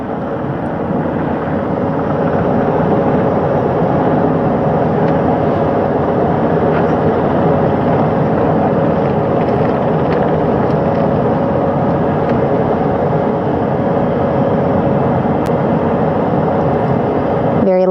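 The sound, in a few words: helicopter touching down on a ship's flight deck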